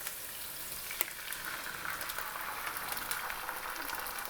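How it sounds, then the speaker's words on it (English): Canned tomatoes hiss and sizzle steadily in a hot frying pan for a gnudi sauce, a dense continuous crackle with a faint clink near the start. "Okay, so we'll put in the tomatoes."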